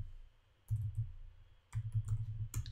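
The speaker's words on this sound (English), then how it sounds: "So here I can type in a new name" Keys tapping on a computer keyboard while a new name is typed into an app field, two quick bursts of close, soft clicking separated by a short pause, with no talking.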